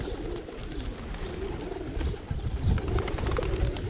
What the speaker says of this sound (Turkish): Kuşları da Menderes abinin yemiyle yemlemiş olduk